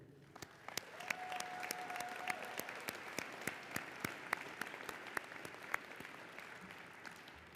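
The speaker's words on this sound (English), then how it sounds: "please celebrate and applaud the family and friends who are here today" A commencement audience applauds family and friends, a sustained wash of clapping with sharp individual claps standing out, steady and moderately loud throughout, with no talk over it.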